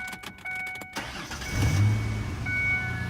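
Supercharged Ford Sport Trac engine on a base tune running near the mic, a low steady rumble that swells after a second of clicks and rattles, with no one talking.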